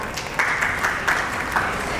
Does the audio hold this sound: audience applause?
yes